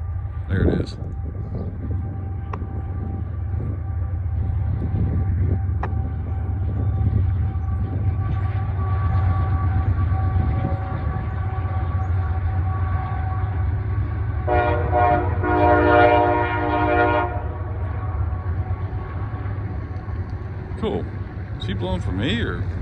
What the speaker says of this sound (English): I'm not sure what that train is blowing for.